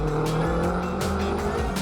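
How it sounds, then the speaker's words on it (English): A Crow Sports Subaru Impreza WRX race car runs flat out on a street circuit during a motorsport festival, its engine droning loudly and close, with rhythmic gear changes and a brief tire squeal. "the Crow Sports Subaru Impreza WRX was the car to beat"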